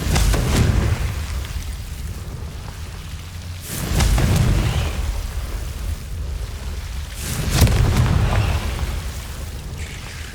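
Confringo blasting spell in the video game Hogwarts Legacy, three dull booming explosions spaced a few seconds apart, each with a low rumbling decay over a steady noisy background.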